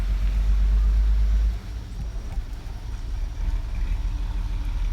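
The engine of a water truck backing up in Ecuador runs with a steady low rumble, heavy at first, then dropping to a quieter idle-like drone.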